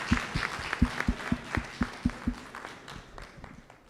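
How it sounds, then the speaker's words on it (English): At a Liberian Association of Canada leadership training event, a modest audience claps in a room: distinct hand claps start sharp and fairly rhythmic, then thin out and fade to a few scattered claps by the end. "If we can give him an applause."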